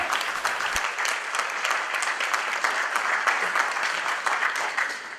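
Conference audience applauds members of Congress, a sustained round of many hands clapping with individual sharp claps standing out, steady and fairly close, with no talking over it.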